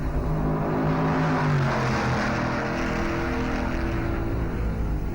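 Stock cars racing at the 1957 Darlington Southern 500, a dense continuous roar of many engines droning and revving together, loud and unbroken.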